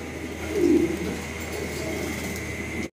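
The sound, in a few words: Lahori fancy pigeons cooing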